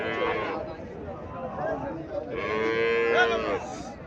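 Sahiwal cross cattle at a livestock market give loud, drawn-out moos, one early and a longer call near the end, over steady crowd chatter and nearby talking.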